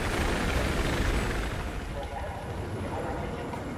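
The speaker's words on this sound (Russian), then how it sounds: "Эта вертушка не сулит ничего хорошего." A helicopter in the video game Battlefield 4 makes a dense, continuous rotor roar and low rumble that fills the scene loudly from start to finish, with faint voices mixed in.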